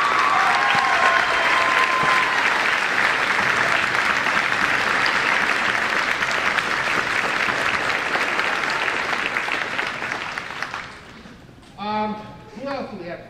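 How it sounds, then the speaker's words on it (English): A middle school advancement ceremony audience gives a long, loud round of applause that holds steady for about eleven seconds, then fades as a voice begins speaking. "so that we can give you a round of applause"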